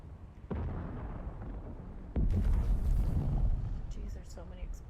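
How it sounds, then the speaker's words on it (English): Explosions boom in the video game Dune, two sharp blasts followed by rumbling debris and crackling, loud against game ambience with a player talking over it. "Jeez, there's so many explosions."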